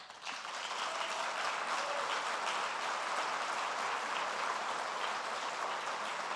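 Steady applause from a sizable audience, an even, sustained patter of clapping that holds without pause from start to finish.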